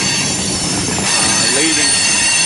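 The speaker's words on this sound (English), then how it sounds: "The next train that should come through, heading west into the yard, going to have a Santa Fe Heritage unit, BNSF," A BNSF freight train led by a Santa Fe Heritage locomotive rolls west into Hobson Yard in Lincoln, Nebraska, giving a loud, continuous rumble with high wheel squeal throughout.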